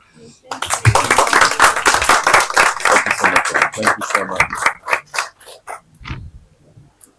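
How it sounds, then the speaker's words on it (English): An audience claps after an event, a brisk run of close, distinct handclaps that starts after a short pause, stays lively, then breaks into scattered separate claps before stopping. "can we please give Rahul another round of applause?"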